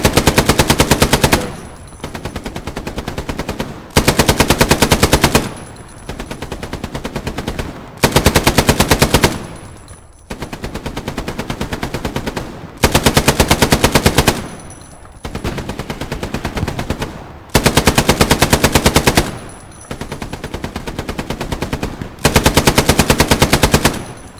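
Two machine guns firing in the World War II shooter Hell Let Loose, laying down loud, long sustained bursts in a regular rhythm that repeat about eight times, separated by brief pauses, with no talk.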